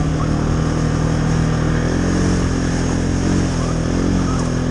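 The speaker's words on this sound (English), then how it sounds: "So you may notice that I'm feathering the throttle a lot." A Can-Am Outlander XMR 700 ATV engine running loud and close on a muddy trail, its revs rising and falling as the throttle is feathered, with a continuous droning roar throughout.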